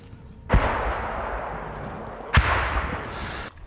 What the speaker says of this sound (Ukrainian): Артилерія працює.